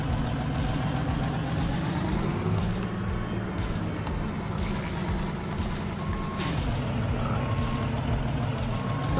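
A truck reversing in American Truck Simulator, with a steady engine drone and evenly spaced reversing beeps repeating throughout, plus occasional hiss of air brakes, all fairly loud and continuous.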